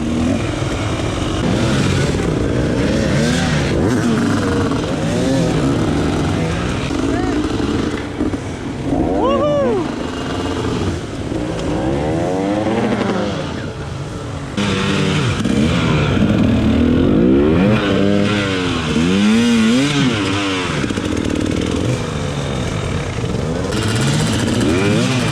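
Hard enduro dirt bike at the Saddleback Xtreme event clawing up a clogged hill line, its engine revving up and down in rising and falling bursts, close and loud, with a voice talking over it.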